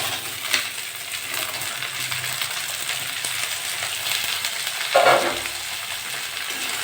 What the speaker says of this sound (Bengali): নেড়ে চেড়ে একটু ভেজে নেবো